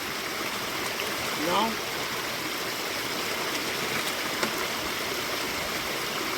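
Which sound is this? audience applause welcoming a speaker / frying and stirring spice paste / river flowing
river flowing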